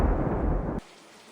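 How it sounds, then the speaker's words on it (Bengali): Thunder in an animated cartoon storm, a loud rumbling burst that stops abruptly, leaving near silence. "আকাশ গর্জে উঠল, বিদ্যুৎ চমকালো এবং বৃষ্টি এলো।"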